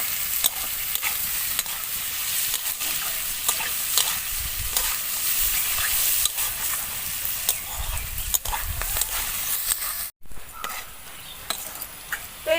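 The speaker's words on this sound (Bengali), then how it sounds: "সব কিছু আমি ভালোভাবে একটু ভেজে নেব।" Chopped vegetables, beans and green chillies stir-fried in a pan for vermicelli chow mein: a continuous bright sizzle with repeated spatula scrapes and clinks, close and steady, briefly cut off near the end.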